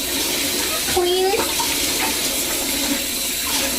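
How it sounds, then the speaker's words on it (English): Water sloshing and running while fish tank gravel is rubbed clean by hand, a steady wet splashing wash throughout with a brief voice-like sound over it. "you rub the bottom of the glass and you get the gravel clean"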